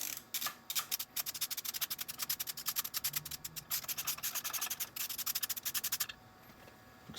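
A ratchet on a 5/8 spark plug socket with a rubber insert clicks in rapid, steady bursts while loosening a spark plug on a Ducati Sport Classic, close and fairly loud, with no talking.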